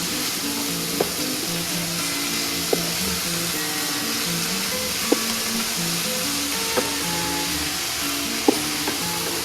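Burma saag leafy greens with salt stirred in a hot pan: a steady, loud sizzle fills the whole stretch, with a few faint clinks of the utensil against the pan.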